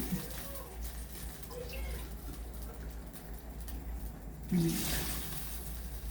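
Water from a tap trickles and splashes into an opened sardine tin in a home kitchen, a soft, fairly faint running sound that swells with a louder gush near the end.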